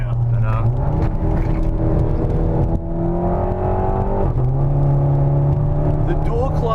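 A modified VW Jetta GLI with a DSG dual-clutch gearbox accelerates hard, its engine note rising steadily through the gears with short dips at each shift, loud and close from inside the cabin while people talk over it.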